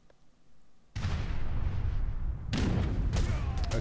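Cannons firing in Age of Empires III, light cannons against heavy cannons, heard as loud, dense rumbling blasts that hit in two sudden waves and keep booming with no pause.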